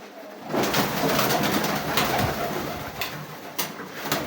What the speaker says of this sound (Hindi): ये पर बड़ा ही अक्लमंद कबूतर है यार